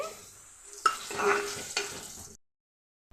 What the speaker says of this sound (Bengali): নারিকেল কেটে নিয়েছি আর কাঁঠালের বিচি নিয়েছি কেটে এগুলি আমি ভেজে নিচ্ছি